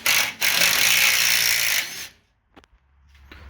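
A ratchet whirs close up while removing fuel tank bolts under a 1987 Toyota 4Runner with a 22RE engine. A short burst leads into a steady run of nearly two seconds, then it stops and a few faint clicks follow.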